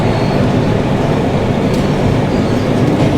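Steady rumble and clatter inside a moving passenger train near Bolpur, loud and continuous throughout with no talking.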